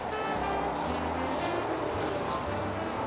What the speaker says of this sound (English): I'll just spray this for myself.